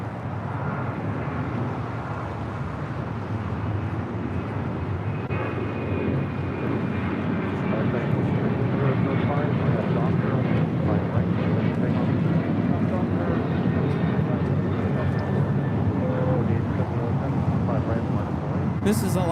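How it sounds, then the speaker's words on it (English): Alaska Airlines Boeing 737-900ER taking off at LAX, a loud sustained jet roar building slightly partway through and holding steady, with wind buffeting the microphone. "This is Alaska Airlines 1442 taking off to Zihuatanejo on a 737-900ER."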